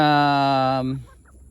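A single drawn-out vocal call from a hybrid buff-colored chicken in a backyard flock, fairly close and clear, fading out after about a second.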